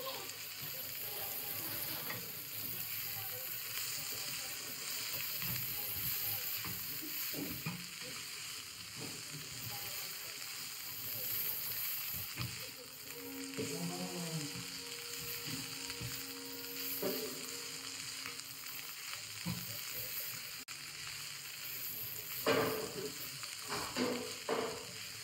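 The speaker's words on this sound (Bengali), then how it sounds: "আমার শাকটা ভাজা হয়ে গেছে, আমি এবার নামিয়ে নিলাম" Fenugreek greens fry in a pan with fried eggplant pieces, giving a faint steady sizzle with occasional stirring scrapes and clinks.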